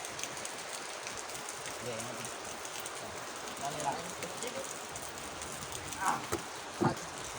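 Steady heavy rain hisses continuously during flooding, with faint voices speaking briefly beneath the downpour.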